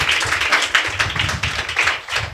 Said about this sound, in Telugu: ఈ వాక్యాన్ని బట్టి బేట లోపల ఉన్న అందరం చప్పట్లు కొట్టి ప్రభువును ఘనపరచుదామండి